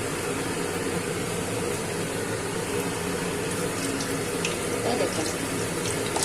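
Chicken nuggets frying in oil over low heat, a steady, dense hiss and crackle that fills the whole stretch at close range with no break.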